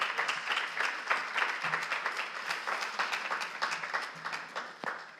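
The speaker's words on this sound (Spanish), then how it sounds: "recibamos con un fuerte aplauso a nuestro siguiente invitado" Sustained applause from a crowd at a talk welcoming a speaker, many hands clapping steadily for several seconds with no voices over it.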